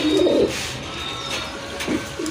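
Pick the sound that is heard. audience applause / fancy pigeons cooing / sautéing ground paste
fancy pigeons cooing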